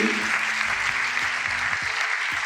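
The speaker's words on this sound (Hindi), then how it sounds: "एक बार जोरदार तालियों से इसका सम्मान किया जाए।" Steady, loud audience applause fills a hall during an honouring ceremony, a continuous wash of clapping from many hands, with a low tonal hum and faint music underneath.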